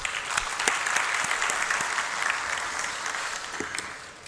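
An audience at an International Literacy Day event gives a round of applause, a steady wash of many hands clapping at moderate volume that fades slightly toward the end.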